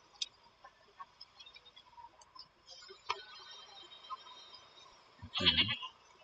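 A goat bleats briefly in The Witcher 3, a short loud call near the end after a stretch of quiet game ambience with faint ticking sounds.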